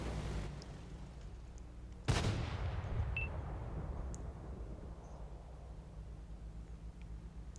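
A tank's artillery gun in a tank video game fires a single sharp boom that rolls off into a long fading rumble over a quiet, low background hum.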